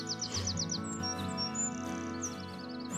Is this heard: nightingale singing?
yes